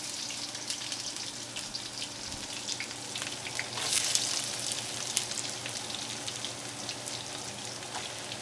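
Carrots stir-frying in a wok for a Christmas dinner, a steady close sizzle with fine crackling and occasional louder spits throughout.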